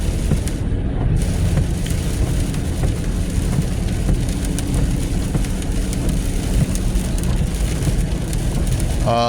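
Heavy rain and road roar from inside a vehicle moving on a highway in East Tennessee, a dense rumbling wash of noise that never lets up.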